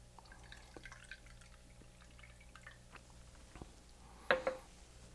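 An ounce of lemon juice is poured into a cocktail mixing tin: faint drips and a brief splashing trickle near the end, close by over a quiet room.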